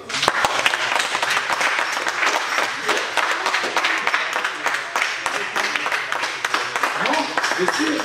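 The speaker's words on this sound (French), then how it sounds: "On peut les applaudir." Audience at a martial arts club's season-closing event applauds competitors receiving medals and a cup, a continuous dense round of clapping at steady loudness throughout, with crowd murmur underneath.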